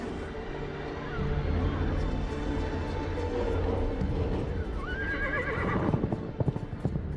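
A winged stallion in the game Argonus and the Gods of Stone gives a shrill whinny near a cliffside by the sea, with clip-clopping hooves and ambient game sounds underneath.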